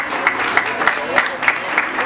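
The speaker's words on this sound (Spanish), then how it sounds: "Un aplauso para Gabriel Hernández." A short burst of applause, with steady clapping from a moderate crowd.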